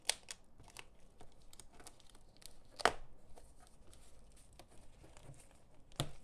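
Cardboard packaging around a diploma frame is cut and torn open in scattered crinkling, scraping bursts, with one sharper loud rip midway and another near the end, close and quiet overall.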